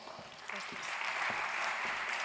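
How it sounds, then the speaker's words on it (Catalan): An audience at a Girona round-table event applauds as panelists come up on stage, a steady, fairly soft patter of many hands clapping. "que són la Vistra Ivanova, un aplaudiment, sisplau."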